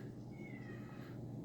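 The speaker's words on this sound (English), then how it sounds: "That's my cat." A pet cat gives one soft, drawn-out meow, faint and somewhat distant beneath a steady low room hum.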